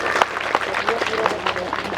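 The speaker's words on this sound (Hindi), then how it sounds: "अगर अच्छा लगा हो तो तालियां खोलिए।" A crowd at a stage magic show claps after a trick, a brisk patter of many hands with a voice briefly mixed in.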